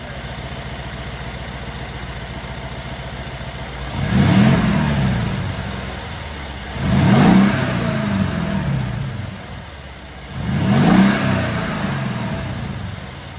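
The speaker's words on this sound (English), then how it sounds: "I'll rev it real quick and then see if we can hear anything." A Mercedes R231 SL550 engine with aFe Power air filters idles, then revs three times in spaced bursts, each climbing and falling back to a steady rumble.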